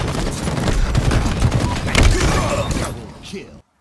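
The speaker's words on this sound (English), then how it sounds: "Grenades." Grenade blasts and gunfire in a Halo Infinite ranked Stronghold match crowd together as loud, dense booms and crackles, with voices talking over the din before it cuts off.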